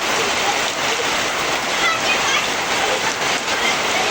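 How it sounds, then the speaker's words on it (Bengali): Steady, dense rain patters hard on a tin roof, a continuous loud hiss without pause. "দেখেন কত সুন্দরভাবে বৃষ্টিগুলো পড়তেছে পানিগুলা টিনের চাল থেকে"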